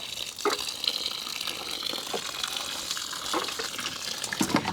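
Water splashing and gushing steadily onto soil around newly planted melon plants in a garden, a continuous close pour with a few brief spattering bursts.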